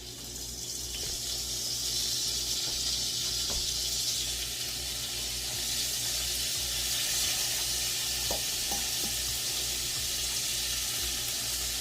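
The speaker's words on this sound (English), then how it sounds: "This pan is hot. But we're going to get started with the shrimp." Raw shrimp sizzle in a hot frying pan with a steady, soft hiss that holds for the whole stretch and carries faint clinks and small pops.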